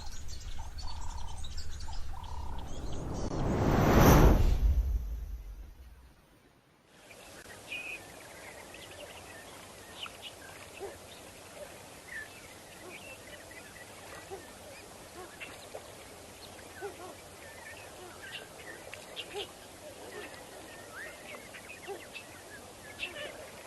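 Birds calling around a waterhole dam, scattered chirps and quacking-like calls near and far over a quiet outdoor background, following a loud rushing burst at the start.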